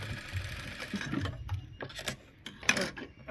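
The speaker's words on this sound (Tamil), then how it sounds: "இவ்வளோ மொத்தமாக தைக்க அந்த மிஷின் எவ்வளோ மொத்தத்தையும் தைக்கும்" A sewing machine stitches through thick layers of lehenga fabric, its close, steady mechanical whir running in bursts with small knocks and clicks.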